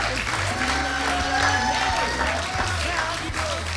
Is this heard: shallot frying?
no